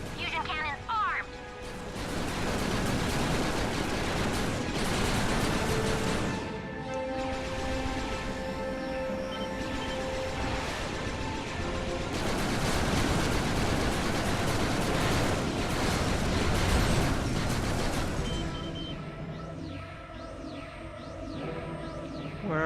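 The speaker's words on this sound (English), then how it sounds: "Fusion cannons armed." Fusion cannons and explosions from the Ratchet & Clank: A Crack In Time space battle boom and rumble in dense, sustained waves of weapon fire with brief lulls, loud and layered under game music.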